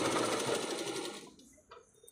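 A sewing machine fitted with a single presser foot stitches in a loud, steady run for over a second, then stops. A few faint clicks and handling noises follow in the quiet.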